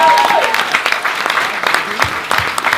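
Audience applause at a Quebec City film festival screening, a lively burst of crowd clapping that is loud at first and then thins slightly, with some voices mixed in.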